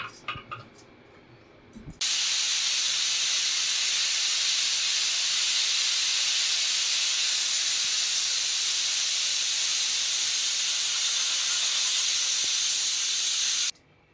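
A pressure cooker on the stove, cooking mutton pulao, lets off steam: a loud, steady hiss starts abruptly, holds evenly for about twelve seconds, then cuts off sharply.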